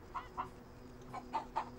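Chicken clucking in a video game: a few short, faint clucks in two pairs with a gap between, alone without talk.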